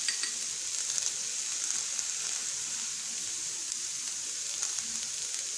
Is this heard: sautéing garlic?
yes